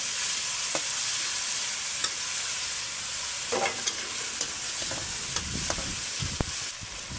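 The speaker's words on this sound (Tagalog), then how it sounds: "Diyan sa pinagprituhan ng isda, diyan ko na rin igigisa ang kamatis." Tomatoes sauté in oil left from frying fish, a steady, moderate sizzle with spatula scrapes and stirring taps scattered throughout, close up and without voices.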